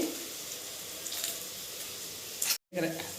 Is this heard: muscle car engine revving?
no